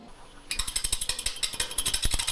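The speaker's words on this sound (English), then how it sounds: "Can you guys hear that twang on that gouge?" A Stuart Batty gouge cuts black walnut on a wood lathe, producing a rapid, rhythmic chattering twang of repeated pulses that starts abruptly and continues close and loud.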